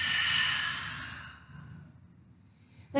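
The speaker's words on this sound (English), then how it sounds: "Take one big deep breath here. Inhale through your nose. And exhale out your mouth." A single deep exhale out through the mouth after inhaling through the nose, a close, breathy whoosh that fades gradually over a couple of seconds into quiet, during a grounding yoga flow.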